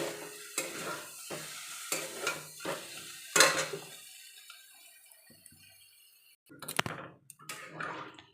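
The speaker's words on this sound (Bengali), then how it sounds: "একটু ভালো করে কষিয়ে নেবো সয়াবিনগুলো" Soybeans, potatoes and spices stirred in a pan for a Bengali curry: a spoon scrapes and clinks against the pan in uneven strokes over a soft sizzle, then pauses before a few louder clattering stirs.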